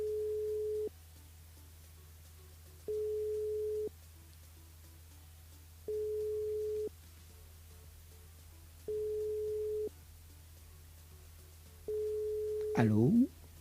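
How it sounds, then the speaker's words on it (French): A telephone line tone during a call from a radio show's on-air game: a clean steady tone pulses on and off about every three seconds, five beeps in a row, ending as a voice comes on the line. "on appelle Nadège sur le standard"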